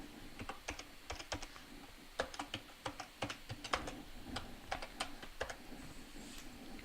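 Computer keyboard keys tapped while entering a password at a workstation, a quick irregular run of crisp clicks in bursts with short pauses, close and moderately quiet, no voices.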